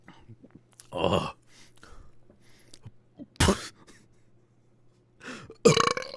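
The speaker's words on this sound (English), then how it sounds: "burped like 8 times already" Three loud burps from a man, each a short throaty gulp, spaced apart over a quiet background with soft murmuring between them.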